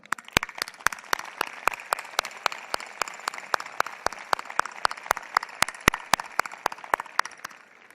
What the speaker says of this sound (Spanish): Para todos ellos, un muy fuerte aplauso, por favor.